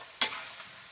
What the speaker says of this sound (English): Stir it up, and then I'm going to throw my mushrooms right inside of there and spread them around.